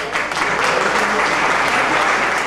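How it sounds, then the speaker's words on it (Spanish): Steady, loud applause from an audience at a Colombian music event, honoring a veteran musician, with continuous dense clapping throughout. "Un aplauso para él."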